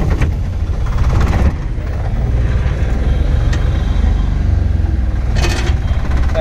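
A loader vehicle's engine rumbles on a road, a loud steady low drone with a couple of brief rattling bursts over it.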